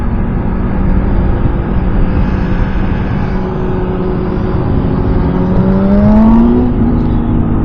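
A Zontes 125cc roadster motorcycle fitted with a small Exil aftermarket exhaust runs with a loud, steady engine drone at close range, with a rising revving whine near the end.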